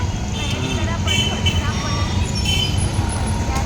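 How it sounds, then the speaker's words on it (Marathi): Steady road traffic rumbles continuously along a busy town street, with cars, buses and trucks blending into a constant roar while a person talks close by throughout. "हे बघा ट्रॅफिक"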